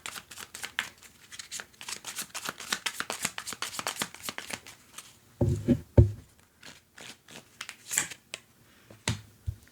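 Tarot cards shuffle in several quick riffling bursts, crisp papery flutters and snaps coming in uneven clusters up close, with a few louder slaps and pauses between them.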